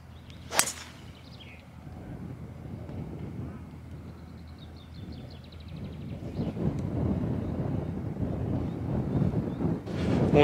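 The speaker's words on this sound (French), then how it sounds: "Parce que là, ça souffle vraiment vent contre." Strong headwind gusting across an open golf course, a steady low rumble of wind buffeting the microphone that swells louder toward the end, with a sharp brief hit near the start.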